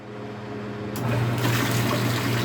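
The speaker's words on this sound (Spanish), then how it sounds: "Observen cómo la bomba encendió y observen el sonido suave y ligero que tiene nuestra bomba de agua." A repaired electric water pump, refitted with a new mechanical seal and bearings, switches on partway through and runs with a steady, smooth, light hum and the rush of flowing water, fairly close and with no voices.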